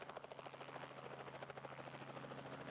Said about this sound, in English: And up into the air goes the blue chopper.